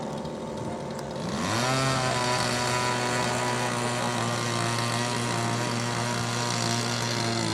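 A large radio-controlled B-17 bomber model at a big-scale model aircraft event spools up its engines for takeoff, a loud steady multi-engine drone rising sharply after the first second and holding strong, with no talk.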